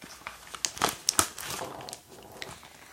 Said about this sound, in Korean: 우선 이건 미니 지퍼백들 세트